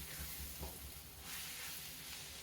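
Brinjal pieces fry in a pan with a steady close sizzle, while a spoon scrapes and stirs through them now and then, with no talking.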